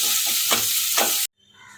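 Onions and nuts frying in a pan until browned, a loud, dense sizzle with stirring scrapes that stops abruptly near the end, leaving faint quiet kitchen background.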